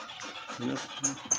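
A pit bull pants quickly and breathily up close, with a few faint soft sounds mixed in.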